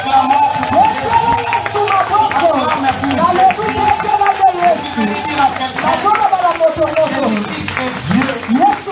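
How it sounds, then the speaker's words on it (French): A church congregation cheers and applauds loudly, a dense mass of shouting voices with scattered clapping that rises and falls throughout, near and energetic. "On acclame l'église pour ça."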